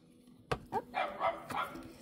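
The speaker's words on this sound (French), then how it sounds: "On a le chien." A dog barks several times in quick succession, sharp and fairly close, the short yelping barks coming in an uneven rhythm with no talk over them.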